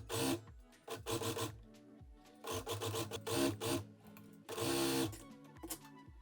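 A sewing machine finishing fabric edges, running in several close bursts of fast rhythmic stitching separated by brief pauses, loud and without talk.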